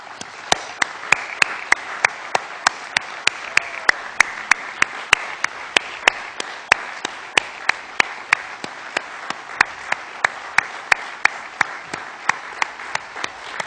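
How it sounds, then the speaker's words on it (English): An audience at a flag dedication ceremony gives sustained applause for military members and veterans, with steady dense clapping throughout and a few sharper individual claps standing out up close. "please stand and be recognized with a big round of applause"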